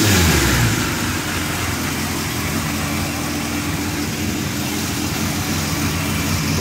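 A car engine with cylinder 2 newly repaired runs steadily after a brief rev at the start, a broad, even drone with no misfire, heard up close and without talk.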